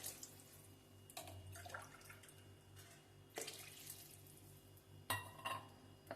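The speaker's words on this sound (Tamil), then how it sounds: "நிறைய ஒரு 3 டம்ளர் தண்ணி 4 டம்ளர் தண்ணி எடுத்து ஊற்றிக்கோங்க" Several tumblers of water poured into a pot for drumstick (murungai kai) soup in a quiet kitchen, heard as short splashing pours separated by pauses, with faint clinks of vessels.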